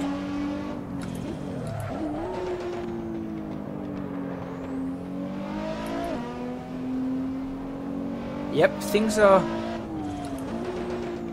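Over-revved Nissan GTR engine in Assetto Corsa on the Nürburgring, its exhaust popping and crackling between steady high-rev droning, with a sharper burst of crackles near the end, all under ongoing talk.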